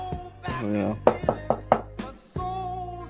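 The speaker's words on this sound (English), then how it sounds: "Oh, I gotta knock" Four sharp knocks on a locked door, evenly spaced about a quarter second apart, sound close and loud during a D&D session, with people talking over them before and after.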